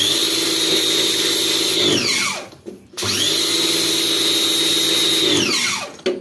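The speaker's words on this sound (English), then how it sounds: "the pressure washer is loud" Bosch pressure washer running on a dirty gas stove, a loud high-pitched motor whine that spins up, holds, then winds down, twice in a row, close by with no talk.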